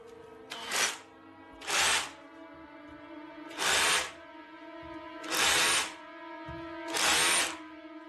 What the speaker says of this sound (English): she thought she could hear drilling and hammering next door